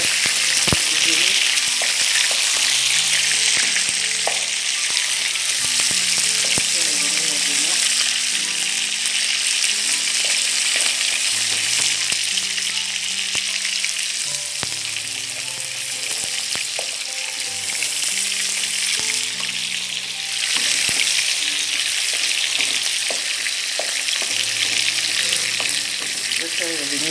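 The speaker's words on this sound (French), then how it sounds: "Je fais revenir les oignons pendant 2 minutes à peu près" Onions cook in hot oil for a spinach and tomato sauce, producing a loud, unbroken sizzle that runs nearly half a minute, with faint tonal background sounds beneath it.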